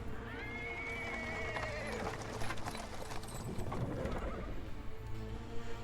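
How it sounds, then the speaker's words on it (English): A horse-drawn cart comes around the corner on paving stones in the fantasy game Pathfinder: Wrath of the Righteous, a horse whinnying loudly up front while hooves clip-clop and wheels roll steadily beneath it. "A cart drawn by a saddled horse appears from around the corner."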